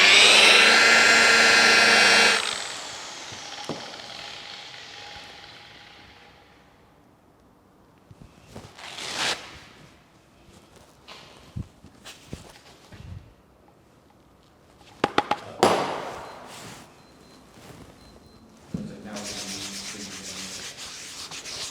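A polishing machine with a lambswool pad runs at 1,500 RPM, giving a loud steady whirring buzz that stops after a couple of seconds and then restarts near the end, with rubbing and handling noises in between.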